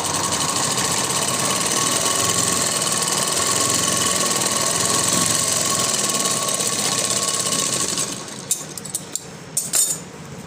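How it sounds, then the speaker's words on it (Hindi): An electric sewing machine runs steadily while stitching a second seam on a floral frock, a continuous whirring hum that stops near the end, followed by a few soft clicks and handling sounds. "अब हम दूसरी सिलाई भी लगा लेंगे। दूसरी सिलाई लगाते वक्त हम थोड़ा सा गैप छोड़ रहे हैं"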